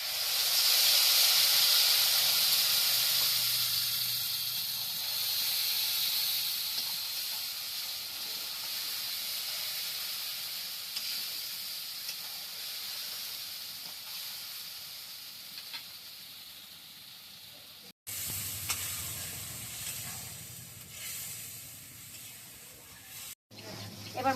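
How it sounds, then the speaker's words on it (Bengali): Spice paste dropped into hot oil, a loud hissing sizzle that bursts up at the start and gradually settles into a steadier, quieter fry, broken by two brief cuts. "আমি যে পেস্টটা বানিয়েছিলাম এখন আমি তেলে দিয়ে দেব"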